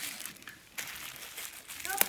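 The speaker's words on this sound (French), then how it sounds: "Et sur ce dernier produit, Dan, je vais l'ouvrir." A packaged food product from a Degustabox subscription box being opened, with soft plastic crinkling and rustling close by, one sharper rip and a crackle near the end, and people talking faintly underneath.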